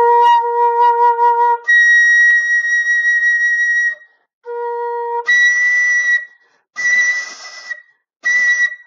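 Airy, breathy flute tones: a few clean sustained notes, then harsher, bright overblown bursts in short separated blasts, loud and close, no talking.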